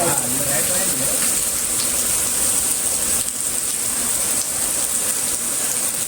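Heavy rain pours down steadily in a dense, unbroken hiss, with faint voices murmuring beneath it at the start.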